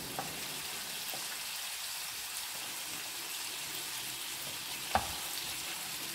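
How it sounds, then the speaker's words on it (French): French fries cook in a pan of hot oil, giving a steady, even sizzle that fills the whole stretch, with a couple of faint clicks and one brief knock near the end. "Bon, maintenant, on va mettre à cuire les frites."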